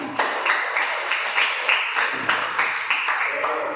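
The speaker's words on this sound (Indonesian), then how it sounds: "Beri tepuk tangan." Steady applause from a classroom group, many hands clapping in a dense, continuous patter that holds at an even level from start to finish.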